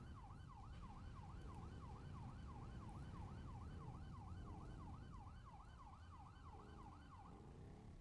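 A wailing electronic siren in the video game GTA 5 cycles rapidly up and down over a steady low rumble, continuous and evenly loud, with no voices.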